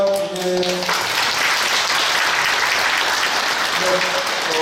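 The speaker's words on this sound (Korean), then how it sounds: "여러분 뜨거운 축복과 격려의 박수 해주시기 바랍니다" Sustained applause from a large church congregation fills the room, steady and loud throughout, with a brief tonal chord fading at the start and returning at the end.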